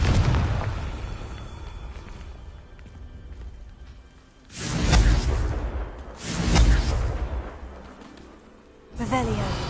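Confringo blasting curses from Hogwarts Legacy burst as three booming explosions with whooshing tails, spaced a couple of seconds apart over a steady background rumble.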